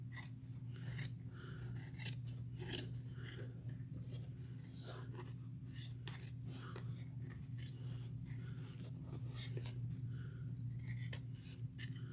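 Scissors trimming the fabric seam allowance on a sewn bag, a rapid run of crisp snips close up, steady throughout over a low background hum.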